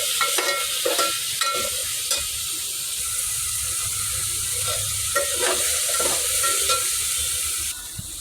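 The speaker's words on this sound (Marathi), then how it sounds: "भाजी पण जरा तेलामध्ये जरा थोडीफार परतून चांगली घ्यायची" Mixed vegetables with tomato sautéed in oil, a close, steady sizzle with repeated scraping strokes of a spatula against the pan, no talk.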